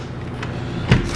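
A walk-in cooler door swings open with a brief solid thud and clunk near the end, heard close against a steady low hum of the cooling equipment.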